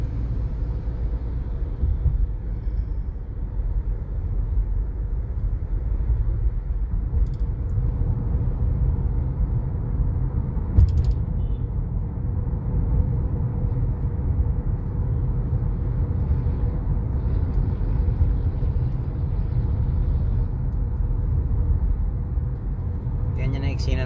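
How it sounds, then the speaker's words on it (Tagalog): Heavy road traffic on EDSA near the Kamuning flyover, a constant low rumble of engines and tires with passing vehicles blending into a dense, steady drone. "Ganyan na eksena ng traffic mga ka-drive pag maaga pa."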